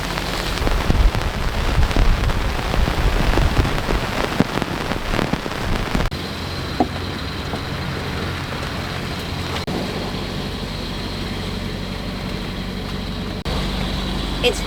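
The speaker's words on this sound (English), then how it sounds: "It's raining." Rain falls steadily on a sailboat at sea in grey, squally weather, louder and more spattery for the first six seconds, then settling into a softer, even hiss with a low background rumble.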